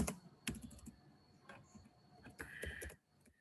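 Typing on a computer keyboard in short bursts of clicky keystrokes with brief pauses, close and fairly clear, with no talking.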